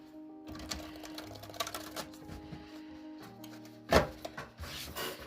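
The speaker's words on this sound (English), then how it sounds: "Shuffling the cards for you." Oracle cards being shuffled by hand give off soft papery riffles and rubbing bursts, with one sharper snap near the end, over a steady tonal background hum.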